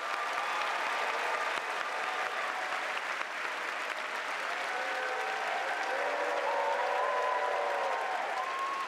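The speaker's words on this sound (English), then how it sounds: "Let's give them all an RIT round of applause." Sustained audience applause fills a large field house at Rochester Institute of Technology's 2014 freshman convocation, steady and dense throughout, with faint musical tones from student groups drifting underneath.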